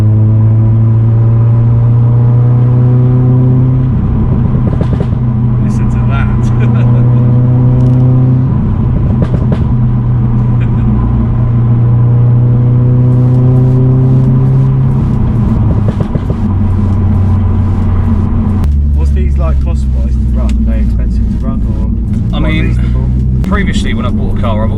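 Audi S3 saloon tuned to 420 bhp, its engine rumbling loud and close from inside the car as it pulls and revs through gears, with a person talking over the drone throughout.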